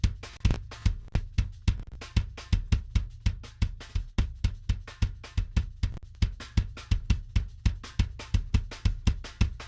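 Drum kit compressed through a HoRNet H76 compressor plugin, a steady, tightly even groove of punchy kicks and snares with level-controlled hits, played alone without talk.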